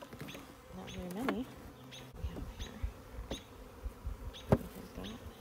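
Honey bees buzz around an opened beehive during a hive check, a close, continuous hum broken by several sharp passes of individual bees flying near, with light handling noises underneath.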